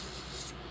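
A nail sanding band rubs against fingernails in a steady close scratchy whir that stops abruptly near the end.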